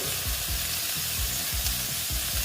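Pointed gourd (potol) with onion and egg fries in a pan, a dense steady sizzle over repeated low scraping strokes as the mixture is slowly broken up, close and alone.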